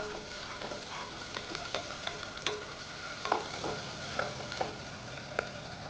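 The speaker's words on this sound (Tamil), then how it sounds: "இஞ்சி பூண்டு பேஸ்ட் போட்டுக்கோங்க. நல்லா வதக்கி விடுங்க." Ginger garlic paste sautéing in a pan for spicy mutton fry, a soft steady sizzle broken by repeated scraping and tapping of a stirring spoon, close but fairly quiet.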